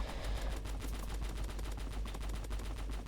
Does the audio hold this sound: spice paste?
no